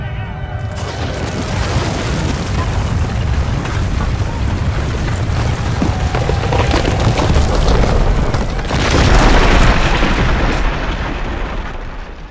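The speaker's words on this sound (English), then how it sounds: "The walls come tumbling down" City walls collapsing in a sound effect: a sustained, loud rumbling crash of heavy booms and crumbling debris that runs almost unbroken for about twelve seconds and swells again near the end.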